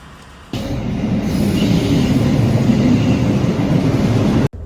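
An old train rolls with a loud, steady rumble heard from close by, wheels squealing faintly over the constant rattle, on a journey from Trier to Munich, Germany.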